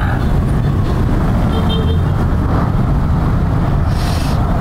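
Dense roadway traffic on MacArthur Highway in Caloocan, heard from a motorcycle amid a makeshift terminal: a constant loud engine and road roar with brief car horn toots in the background.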